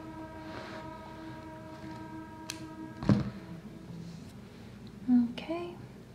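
A train passes at a distance, a steady low rumble and drawn-out horn tones running under the clip, with a couple of nearby thumps and brief rustles on top.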